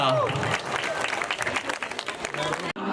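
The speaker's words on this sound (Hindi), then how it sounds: "जोरदार तालियां।" Loud, dense applause from an audience at a Navratri children's patriotic dance performance in Jaipur fills nearly three seconds, steady and close, then cuts off abruptly near the end.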